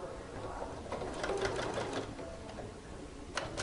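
A sewing machine runs a line of stitching along the neckline facing of a dress, its close rapid whirring buzz continuing steadily, with a few light clicks near the end.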